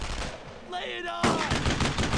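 Rapid World War II gunfire in the video game Brothers in Arms, with dense bursts of rifle and machine-gun shots, loud and close, a brief lull, then more firing.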